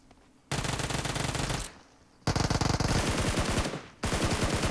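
Rapid full-auto Uzi submachine gun fire in the mobile shooter PUBG Mobile, three loud, close bursts of fast rattling shots separated by short pauses.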